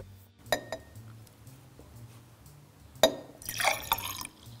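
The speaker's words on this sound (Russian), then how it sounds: "нужно с одного стакана перелить воду во второй. Сделать это тихо." Water poured quietly from one drinking glass into another: a few soft drips and faint glassy clinks, then a brief burst of trickling near the end, close and gentle.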